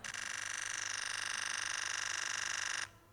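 A Nikon Z9's simulated shutter sound firing at 20 frames per second, a fast, even burst of faint mechanical ticks that runs for nearly three seconds before stopping abruptly.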